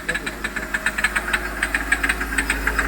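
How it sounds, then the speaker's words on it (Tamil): A Hyundai Xcent engine with a faulty injector idles nearby, a steady rapid ticking knock beating over the low running hum, with a voice speaking briefly over it. "என்ஜின்லேயும் டக்கடக்குன்னு அடிக்குது."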